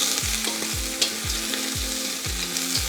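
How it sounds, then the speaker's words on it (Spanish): Shrimp sautéing in a hot pan for caldo de camarón, a bright steady sizzle punctuated by regular low scraping pulses of stirring about twice a second, close and loud, no talking. "y los salteamos solo hasta que cambien de color, aproximadamente por 1 minuto"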